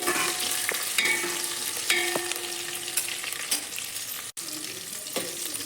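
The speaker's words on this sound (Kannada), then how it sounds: "ಫ್ರೈ ಮಾಡ್ತೀವಿ" Onions with curry leaves frying in a pan for horse gram sambar, a constant close sizzle with occasional stirring knocks and a brief dropout near the end, no voice.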